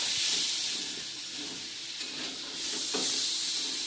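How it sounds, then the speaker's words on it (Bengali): Potato and pointed gourd sauté with spices in a pan, giving a steady close sizzle and hiss throughout. No one talks. "আমার আলু পটলটা ভালো করে কষানো হয়ে গিয়েছে মশলার সঙ্গে।"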